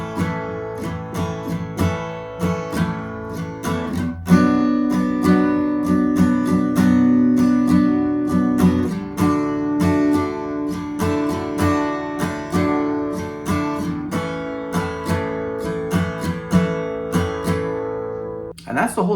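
An acoustic guitar strums the chords of a song without a capo in a steady, repeating rhythm, played alone and close up, with chord changes every few seconds.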